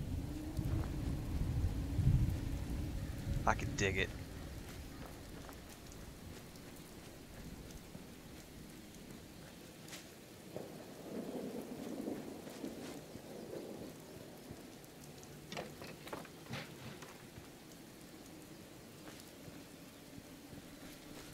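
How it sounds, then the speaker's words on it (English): Gentle steady rain falling in the Fallout 76 video game world, a soft continuous patter heard while walking, with a low rumble early on and a few brief tonal blips; a voice speaks briefly. "Sound effects are really nice right now. It's just like a nice gentle rain as we're walking through here."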